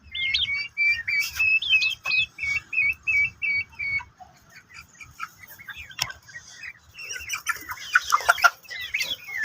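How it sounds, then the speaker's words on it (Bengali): Tiger breed chickens cluck and call in short, repeated bursts, some notes squawky and high, with quieter gaps between, close by and with no talk. "একটা মুরগি আসার পর থেকে দেখছি যে তারা ঝিমাচ্ছে, যে কোনো কোনায় বসে ঝিমাচ্ছে।"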